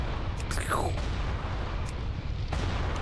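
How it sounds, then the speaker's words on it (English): A giant cannon firing and blowing things up in the video game World of Warcraft, sounding as a dense, continuous low booming roar with a couple of sharper blasts, loud and close beneath people talking. "Blowing things up with the giant cannon."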